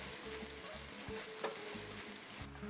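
Machaca, shredded beef, frying in a pan as it is stirred, a close, even sizzle with soft scraping sweeps, fairly quiet, no talking.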